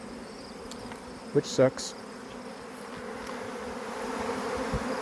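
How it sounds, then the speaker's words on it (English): A honey bee swarm pouring out of a hive fills the air with a dense, steady buzzing that swells slightly toward the end, with a brief spoken remark and a couple of sharp knocks early on. "Yep, we're getting a swarm."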